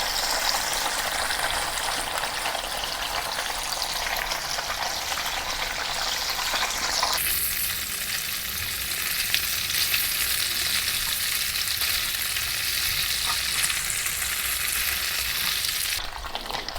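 Tofu frying in a pan for a Chinese stir-fry, a dense continuous sizzle and crackle held close and steady throughout, easing slightly in intensity partway through, with no voices.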